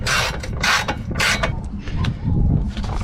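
Ratchet tightening bolts on a Hasport battery bracket in a Honda CRX Si engine bay, a few quick bursts of close clicking strokes separated by short pauses, with faint metallic handling between them.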